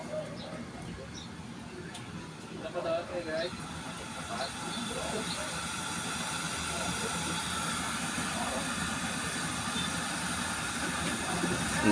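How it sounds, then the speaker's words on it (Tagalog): A blower fan on a smokeless wood stove, turned up, gives a steady loud rushing hiss that grows slightly stronger over time, with faint clicks and crackles in the mix. "Lakasan po natin ang blower."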